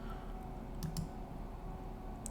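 A computer mouse clicks the Shuffle button a few times, producing small, sharp, faint clicks over a steady background hum.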